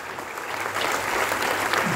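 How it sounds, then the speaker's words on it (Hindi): Audience applause fills a hall at the launch of the book Udaan, steady, dense clapping that holds at an even level for the whole two seconds. "भरी तालियों बरसती रहे आज के इस सभागार में।"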